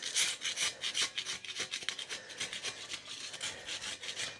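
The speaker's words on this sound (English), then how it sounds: "just a metal scraper kind of works pretty good. Take the big sheets of crust off." A metal scraper rasps repeatedly across a grill grate, knocking off sheets of baked-on crust in a steady series of close, gritty strokes with no talking.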